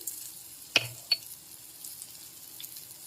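Green chilli is stirred into frying veg chowmein with a soft crackling sizzle, punctuated by two sharp clatters of a spatula against the pan and lighter taps later.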